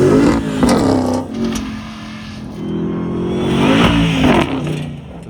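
A 2027 RAM 1500 TRX SRT with a supercharged V8 runs at full throttle, and the engine rises and falls in loud, close revving surges, with sharp pitch sweeps as it climbs and drops repeatedly.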